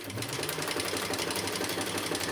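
Sewing machine stitching a Mysa crossbody bag, a fast, steady mechanical whir and rattle that runs continuously at close range, alone without talk.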